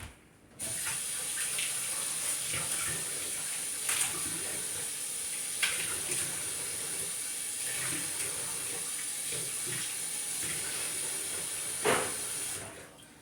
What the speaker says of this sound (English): Alright, I have my celery washed up. I'm going to wash that one more time.